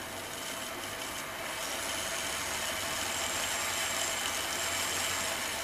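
A tiny high-speed motor drives the roof fan of an Accurascale BR Class 31 model locomotive. It gives a steady, close, high-pitched whine with a slight buzz that holds evenly throughout, with no voices.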